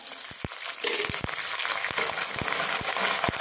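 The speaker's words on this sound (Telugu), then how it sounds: "ఇవన్నీ కూడా బాగా కలుపుకోవాలి వేయించుకోవాలి" A tempering of chana dal, dried red chillies, crushed garlic and curry leaves sizzles steadily in hot oil, with intermittent sharp knocks and taps of a spoon against the pan, close up and without speech.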